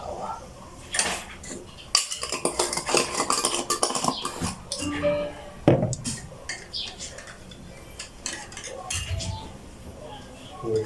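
Clinks and scrapes of a spoon against a cup and other kitchenware while coffee is being made, coming in irregular close bursts with faint talk in the background.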